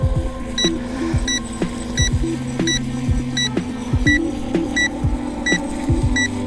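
Regular high-pitched electronic beeps from an Eachine EBT04 LED RC boat repeat about twice a second over a steady motor hum and scattered low knocks.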